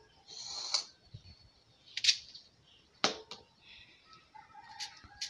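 Knife cutting through peeled yam on a board, a few sharp isolated chops spaced about a second apart, close and fairly quiet with soft handling noise between.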